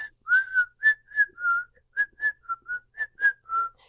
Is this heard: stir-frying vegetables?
no